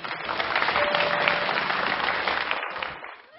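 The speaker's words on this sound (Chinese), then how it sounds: "来，用掌声献给所有离开了我们的亲人父母" Brief burst of studio audience applause on a television talk show, steady clapping from many people that fades out near the end.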